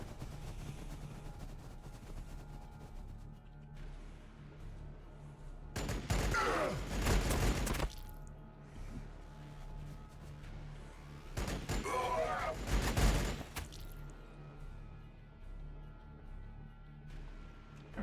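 Gunfire in the Warhammer 40K Battlesector strategy game, Black Legion forces: two loud, dense bursts of shooting a few seconds apart over a steady low battle hum, with faint spoken chatter elsewhere.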